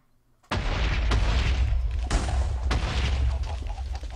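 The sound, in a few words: TNT explosions in Minecraft modpack video game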